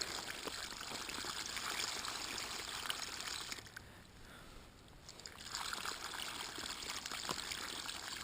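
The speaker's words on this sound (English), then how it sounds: "Oh yeah, it's bubbling." Water bubbles and gushes through a gold fluid bed under pressure outdoors, a steady close churning flow that dips briefly partway through before surging back.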